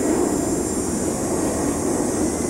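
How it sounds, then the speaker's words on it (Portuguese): A fixed-wing airplane passes overhead near an airport in Toronto, producing a loud, continuous jet roar that fills the short moment without any voices. "aqui perto de casa é o aeroporto, passa muito avião aqui perto, muito avião mesmo"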